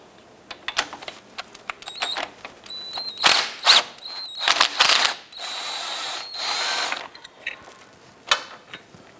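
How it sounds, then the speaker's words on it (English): A ratchet and socket turns the 18mm nut on the lower ball joint bolt of a 2008-2013 Nissan Rogue, in short bursts of rapid clicking with brief metallic clinks and pauses between. "Using an 18mm socket to remove this nut on our lower ball joint bolt."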